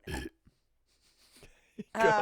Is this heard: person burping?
yes